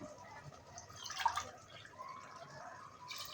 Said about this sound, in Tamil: இப்போ நம்ம தண்ணி ஆட் பண்ணுறோம்.